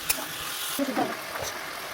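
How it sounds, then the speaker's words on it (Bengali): Malabar spinach greens with salt and turmeric being stirred in a pan, a brief, continuous close sizzle with a few soft spatula scrapes and taps. "আবারও কিছুক্ষণ এভাবে নাড়াচাড়া করতে থাকবো"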